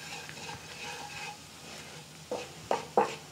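Flour sizzling softly in a pan as it is stirred for Hong Kong style black pepper sauce, a gentle steady fry broken near the end by three sharp spoon scrapes and knocks against the pan.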